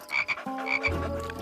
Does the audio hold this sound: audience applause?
no